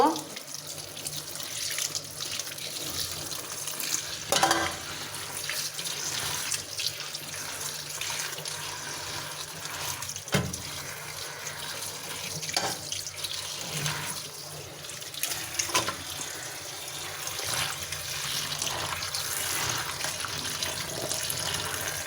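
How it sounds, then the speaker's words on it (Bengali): Tap water runs steadily into a sink as Malabar spinach is rinsed, a continuous broadband splash close by with small shifts in flow and occasional louder spatters, no talking over it. "এই যে আমি পুঁই শাকগুলো সুন্দর করে ধুয়ে নিব।"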